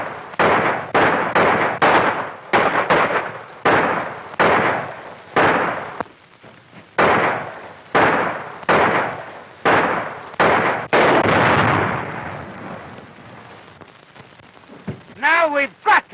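Dynamite blasts and gunfire from a 1935 western film arrive as a rapid run of sharp, loud bangs with short gaps between them. A longer rumble follows, then a brief voice near the end.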